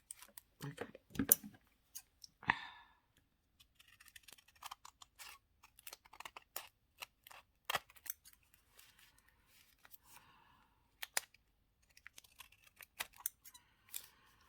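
Scissors trim paper for a mini journal with many short, crisp snips in irregular clusters, close and fairly quiet, and a voice speaks softly at times.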